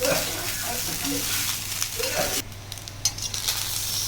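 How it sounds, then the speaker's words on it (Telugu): Egg fried rice frying in a pan, a continuous close sizzle with scraping and tossing of the rice, the sizzle thinning briefly partway through. "సో రైస్ని ఈ విధంగా ఫ్రై చేసేస్తున్నాను"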